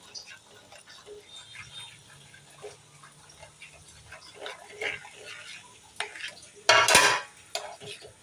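Flour being stirred briskly into buttermilk in a pot for a traditional Konkan ukad, breaking up lumps, with quiet scraping and clinking of a utensil against the pot and a sharper burst of clatter near the end.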